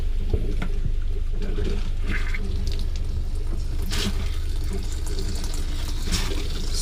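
A water pump pushes fluid through the plumbing lines of a Geo Pro 19FBS travel trailer during winterizing, a steady low hum under gurgling, rushing liquid, with no talking.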